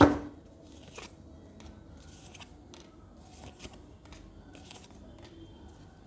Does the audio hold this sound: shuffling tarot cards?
yes